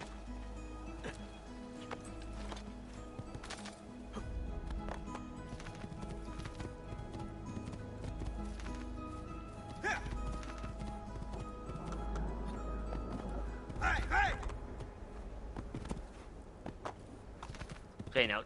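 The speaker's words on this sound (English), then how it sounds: "Oh hey, a horsey." Horse hooves clip-clop at a steady walking rhythm in Assassin's Creed II, layered over a constant low game ambience and music, with brief louder rustling bursts near the end.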